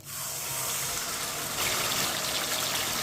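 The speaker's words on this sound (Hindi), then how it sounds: "1 कप पानी डालेंगे।" Water steadily poured from a cup into a pot of rice and sugar with hot ghee for sweet mutanjan, a continuous close splashing gush that runs unbroken for a few seconds with no voices.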